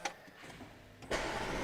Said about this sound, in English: We will bring that 4-litre twin-turbo V8 to life.